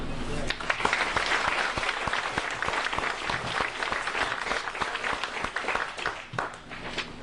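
Sustained applause from a crowd at a candidate forum, many hands clapping steadily and densely for several seconds, loud and close.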